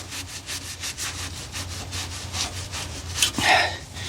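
Rag rubbing brake cleaner over a trailer axle spindle before new bearings go on, a steady run of close, rhythmic rasping strokes with a brief louder swipe near the end, and no talk.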